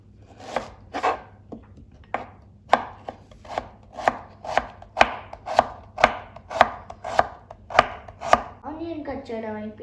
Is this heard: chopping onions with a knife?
yes